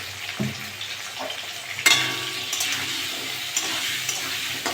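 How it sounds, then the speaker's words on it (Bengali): Potatoes frying in hot oil with salt and turmeric: a steady crackling sizzle with a louder burst of spattering near the middle and occasional utensil clinks, close and with no talking. "আলুগুলো ভালো করে ভেজে নেব।"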